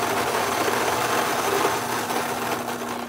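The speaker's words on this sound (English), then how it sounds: "Just waiting for the grinder to calm down." A Fellow Ode electric coffee grinder works through 30 grams of beans, a loud, steady whirring motor drone with a gritty texture that holds throughout at close range.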